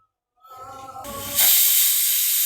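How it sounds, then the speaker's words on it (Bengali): A pressure cooker lid starts to whistle, rising from soft wavering tones into a loud, sustained hissing jet of steam that keeps going strongly to the end, cooking chickpeas on a kitchen stove. "এইমাত্র একটা সিটি দিল"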